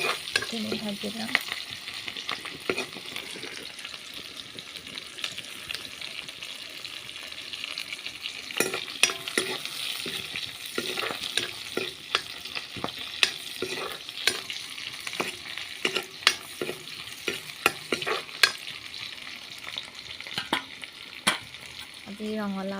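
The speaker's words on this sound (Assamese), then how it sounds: "এয়া ৰঙালাওটো ভালদৰে পিঁয়াজখিনি ভাজি লওঁ" Pumpkin fries with onions in a pan under a constant hiss of oil, punctuated throughout by frequent sharp scrapes and taps of a spatula stirring the pieces.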